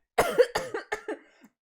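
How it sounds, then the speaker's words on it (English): A close cough into a microphone: a burst of about five or six rough hacking coughs over a second and a half, loud and near, with no speech. "Good job coughing into that mic."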